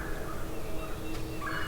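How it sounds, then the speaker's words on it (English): A wild turkey gobbles once, faint and distant across a deep mountain hollow, in a quiet, dead-calm, cold morning outdoors. "I've heard one bird gobble 3 times way across this deep hollow over here"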